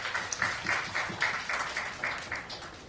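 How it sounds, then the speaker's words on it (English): Audience at the YOUTHCON 2026 medical competition applauds the winning teams, a steady wash of clapping with a few louder bursts, moderately close and loud, with no talk over it. "Let's have a big round of applause for all of them."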